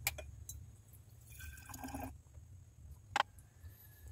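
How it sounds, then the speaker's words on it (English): Copper nitrate solution decanted from a container during gold refining, a faint liquid trickle and drips with a brief splashy stretch in the middle and a sharp clink, over a low background hum. "So we will decant our copper nitrate here,"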